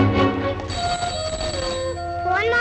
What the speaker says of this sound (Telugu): ఫోన్ అవుతుంది, ఇంట్లో ఎవరు లేరు.